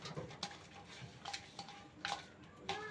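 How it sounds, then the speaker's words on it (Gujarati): Soft, close stirring and mixing of masala into kagsha fish pieces for a marinade, with faint scraping and light clinks against a bowl, quiet and steady without speech. "તો હવે આને આપણે મિક્સ કરી નાખશું મસાલાને બધોય"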